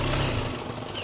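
A Rockwell RW-V2 steam engine, mounted on the deck plate of the ferry La Rance and running at 2 bar, picks up speed from a slow idle as a steady, loud low rumble that continues throughout.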